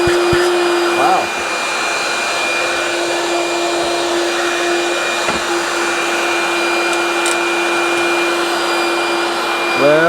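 A Dewalt DCV517 cordless battery vacuum runs close by with a loud, steady high whine for about ten seconds, the pitch unchanging throughout.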